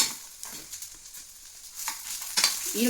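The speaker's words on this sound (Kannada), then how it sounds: "ಸ್ಲೋ ಗ್ಯಾಸಲ್ಲಿ ಫ್ರೈ ಮಾಡಬೇಕು." Onions fry in oil in a pan over low gas for a chicken gravy, a soft steady sizzle broken by a few louder stirring scrapes near the end.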